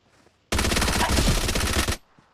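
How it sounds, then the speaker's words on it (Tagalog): A rapid burst of automatic gunfire from PUBG Mobile rattles loudly for about a second and a half, a dense string of shots with quiet before and after. "May paputok pa."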